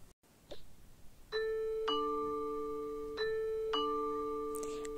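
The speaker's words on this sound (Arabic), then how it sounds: "هرن الجرس احسن" A two-tone doorbell chime rings twice, the ding-dong notes clear and ringing out, after a few faint knocks and rustles.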